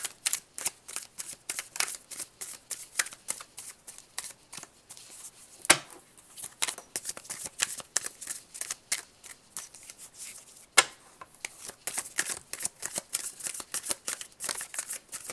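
Tarot cards are shuffled by hand in rapid, crisp riffles and flicks close by, a steady run of dry papery snaps with a few louder slaps, and no talk.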